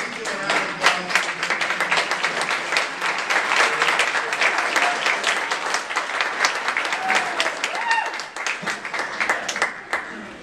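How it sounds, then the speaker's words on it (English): Sustained applause from a graduation audience in a large hall, dense steady clapping lasting about ten seconds and fading slightly at the end. "Graduates, please give a round of applause."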